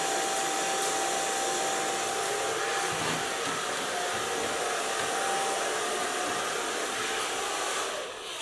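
A hair dryer blows continuously while hair is being blow-dried during a perm styling session. The airflow makes a loud, even whoosh with a faint steady whine, with no talk.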